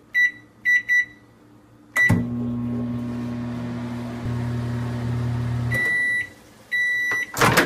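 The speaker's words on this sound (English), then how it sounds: "Put the potato in microwave for 6 minutes." Microwave oven heating a potato: a few short beeps, then a door thunk and a steady low hum of the running oven, ending with a thump and more beeps, no talk.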